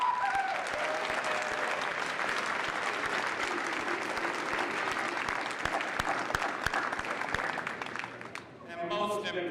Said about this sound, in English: please give your parents, families, and friends gathered here today a round of applause